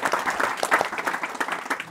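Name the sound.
audience round of applause for panelist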